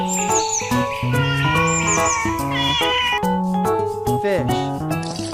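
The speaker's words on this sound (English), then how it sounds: "cat," A cat meows clearly over steady background music, with several drawn-out cries across a few seconds, loud and close.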